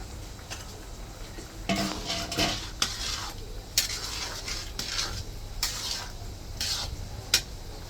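Cooked chicken being stirred into Gobindobhog rice for chicken biryani in a pot, with repeated scraping and clinking of a metal spoon against the pot in irregular bursts, close and moderately loud, with no talking.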